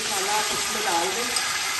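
Spice masala for aloo gobhi hitting hot oil, giving a dense, steady frying hiss that stays close and even across the short moment.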